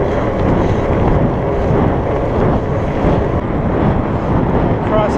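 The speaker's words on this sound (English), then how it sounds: "Cross headwind now is affecting us" A cross headwind buffets the microphone on a Surly Moonlander fat bike during a cold ride to work, making a loud, continuous low roar with gusty swells and no clear voices.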